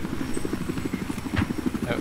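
A Battlefield 4 helicopter's rotor thumps in a fast, steady rhythm close by, with a voice talking briefly over it.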